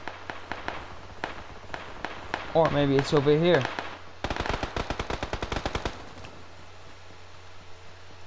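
Gunfire from a firing range rings out as single shots and then a rapid string of loud cracks in quick succession. Someone talks briefly in between.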